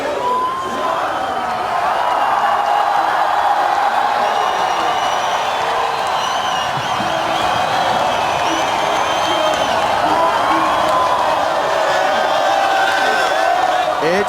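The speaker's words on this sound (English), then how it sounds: "as you can hear, listen to the crowd." Large beach crowd cheering and whooping steadily at the 2017 Oi Rio Pro surfing final in Saquarema, Brazil, a loud continuous roar of many voices with scattered shouts throughout.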